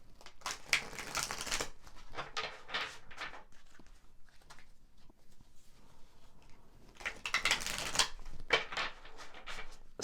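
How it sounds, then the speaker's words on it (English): Tarot cards being shuffled in two bursts of crisp riffling and shuffling, one at the start and one near the end, with quieter handling between and no voices. "I'm going to shuffle 2 more times."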